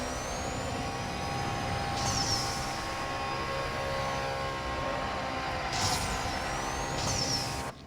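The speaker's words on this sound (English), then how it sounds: "I need the nitrous now" Nitrous boost kicking in on a car during a Need for Speed No Limits race, a steady roaring engine drone with whooshing bursts and rising whines at a few points, loud and continuous with no talking.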